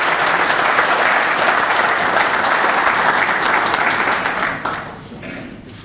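A business roundtable crowd in Prince George's County applauds loudly and densely for several seconds before the clapping thins and fades toward the end.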